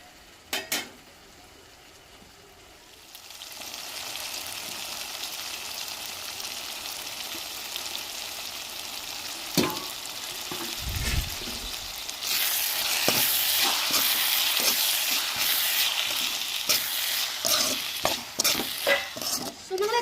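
Cleaned dried fish frying in a pan with softened onion, tomato and green chilli, a sizzle that grows louder and brighter midway, with scraping stirs and utensil knocks against the pan, no talk.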